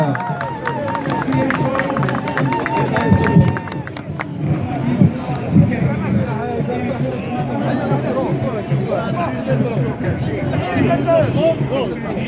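Audience applause at a French- and Arabic-speaking gathering, with clapping mixed into loud crowd chatter and babble; hands and voices overlap continuously at close range.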